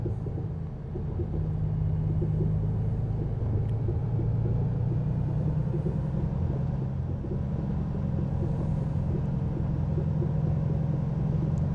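Steady low rumble of a Volvo truck engine driven in Outback Australia Truck Simulator, a relatively quiet cab drone that holds constant and continuous throughout, with no talking.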